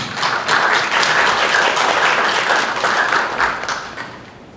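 A city council audience applauds veterans with steady, dense clapping from many hands in an indoor chamber, moderately loud and fading out toward the end.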